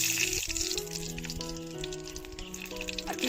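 Bay leaves and dried chilies fry in hot ghee in a pan, giving a continuous close sizzle with crackling pops and small splatters throughout.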